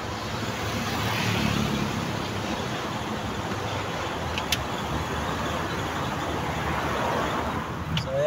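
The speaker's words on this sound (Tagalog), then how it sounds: "medyo traffic tayo dito." Road traffic drones steadily around a truck in slow congestion, a continuous broad rumble of engines and tyres with a brief faint click or squeal near the middle and end.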